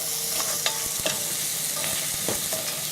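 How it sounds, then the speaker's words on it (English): Thin diagonal carrot slices sizzle and crackle in a stir-fry pan, a steady close hiss with small pops and clicks on top. "So you hear the sizzle."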